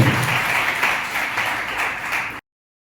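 An audience at a university oratory competition applauds the organizing team with dense, loud, steady clapping lasting about two seconds, ending abruptly.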